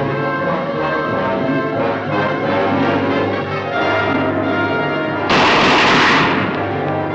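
Gunfire in a 1957 monster film trailer as bullets are fired at a creature, a dense continuous volley of shots over dramatic orchestral music, swelling louder and brighter near the end.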